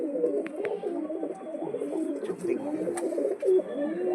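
Domestic pigeons coo in a loft, several birds overlapping in repeated throaty rolling calls close by, with faint chirps and brief clicks mixed in.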